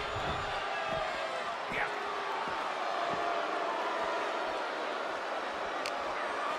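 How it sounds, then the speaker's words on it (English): Arena crowd roaring in the wrestling game WWE 2K23 during a handicap match, a constant dense wash of cheering at steady loudness, with a few thuds and a commentator's voice over it. "The roar of this crowd has been building"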